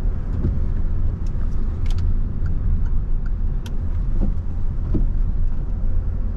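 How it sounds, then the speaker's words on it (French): A car cabin holds a steady low engine drone as the vehicle accelerates gently during a driving lesson, fairly loud and even throughout, with a few faint clicks and no one speaking. "Et on accélère tranquillement."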